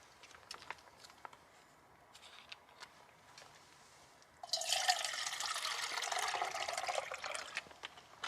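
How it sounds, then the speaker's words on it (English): Water pours from a container into a pot on a lightweight Stormin cone camping stove, a broad steady splashing rush that starts abruptly midway after quiet clicks and light handling, loud and close, with no talk. "So let's get some water on"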